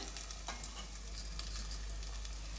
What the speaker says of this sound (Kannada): ಇವಾಗ ಗ್ಯಾಸನ್ನು ಮೀಡಿಯಮ್ ಫ್ಲೇಮಲ್ಲಿಟ್ಟು ಇದನ್ನು ನಾನು ಒಂದೆರಡರಿಂದ ಮೂರು ನಿಮಿಷ ಬೇಯಿಸ್ಕೊಳ್ತೀನಿ